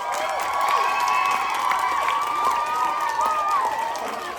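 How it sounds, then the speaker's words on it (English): An audience at a school mock trial of The Three Little Pigs cheers and claps for the child performers, a steady mid-level wash of clapping and excited shouts lasting a few seconds. "do they deserve a round of applause?"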